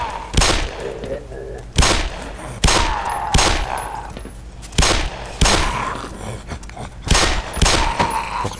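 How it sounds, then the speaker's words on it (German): Gunfire in the video game Black Mesa: repeated loud sharp shots roughly every second with echoing tails, a dense, steady barrage up close. "Echt viele Schüsse."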